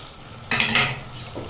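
Mixed vegetables get stirred in a pan: two quick scraping, sizzling strokes near the start, then a short softer scrape, close and brief with no voices.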